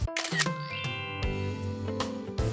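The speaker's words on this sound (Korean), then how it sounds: "여기서 찰칵." Camera shutter clicks, a few crisp sharp snaps near the mic, heard over a bed of sustained tonal music.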